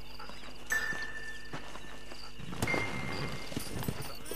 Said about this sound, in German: Dein Pferd rennt aber gerade weg